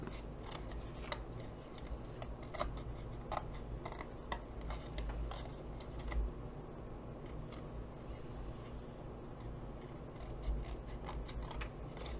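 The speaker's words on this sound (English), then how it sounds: "I'll just use my scissors because it's easier than pulling the trimmer back out." Soft, irregular snips and rasping cuts of scissors working through paper, close by, steady over a low background hum.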